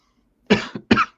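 Two sharp coughs in quick succession, close and fairly loud, with a short pause between them and no talking.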